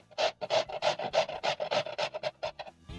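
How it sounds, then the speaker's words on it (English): Potatoes are grated by hand on a grater in a steady rhythmic series of about fifteen rasping strokes, close and fairly loud, with no other sound. "as you grate your potatoes, be very careful because you don't want to grate your fingers"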